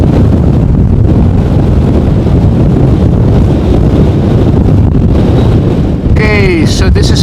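Strong gusts buffet the microphone at an outdoor plane-spotting spot beside Amsterdam Schiphol airport during a storm, a steady loud roar of wind noise throughout, with a faint whining aircraft engine rising near the end.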